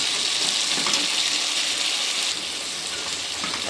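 Taro stolons and prawns sizzle in a pan while being stirred, a dense, steady hiss close by that eases slightly partway through, with no voices.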